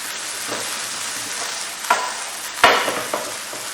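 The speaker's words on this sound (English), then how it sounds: "we pan fry it. And it crisps it up" Gnocchi pan-fries in olive oil with a loud, steady hiss, broken by a few sharp scrapes and taps as the pieces are turned in the pan.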